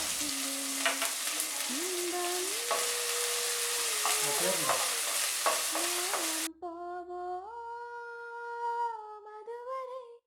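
Chopped green chillies fry with chana dal in a hot pan, making a bright sizzle with occasional stirring scrapes under steady background music.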